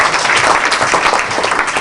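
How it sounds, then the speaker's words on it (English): Audience at a comedy show breaks into dense, loud applause, a continuous wash of clapping from the whole crowd that fills the room. "And also give yourselves a round of applause here tonight."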